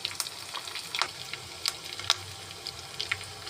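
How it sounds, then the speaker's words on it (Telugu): Onion paste, dried red chillies, green chillies and curry leaves fried as a tempering for pachi pulusu: a soft, sparse crackle with scattered sharp pops and faint watery hiss, quiet throughout. "ఉల్లిపాయ పేస్ట్, ఎండుమిరపకాయలు, పచ్చిమిర్చి, కరివేపాకు వేసుకోవాలి."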